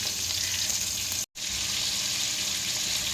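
Whole cumin and whole garam masala sizzle in hot oil as a tempering for coriander chicken, giving a loud, continuous crackling hiss. There is a brief dropout in the middle.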